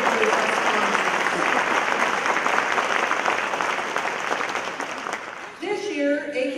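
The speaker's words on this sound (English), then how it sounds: "Let's give a big round of applause for this wonderful group." Audience applause at a quilt show awards ceremony fills most of the stretch as dense, steady clapping, then fades toward the end as a voice begins speaking over the tail.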